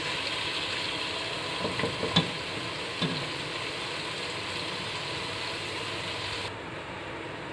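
Cut tinda (apple gourd) fries in a pan with a steady, even sizzle and hiss, broken by a couple of faint clicks from stirring, continuing unbroken throughout.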